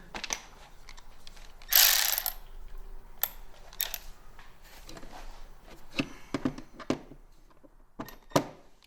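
A ratchet turning a Torx bolt on a 2023 Ski-Doo Expedition SE 900 ACE skid plate gives sharp, close clicks in irregular bursts, with a brief louder rasp early on.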